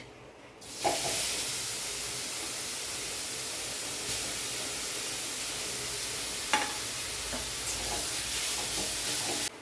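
Beetroot goes into hot oil with cumin in a wok and fries with a steady loud sizzle and hiss that keeps going, with a few soft clicks of stirring and no talking.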